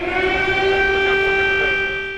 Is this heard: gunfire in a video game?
no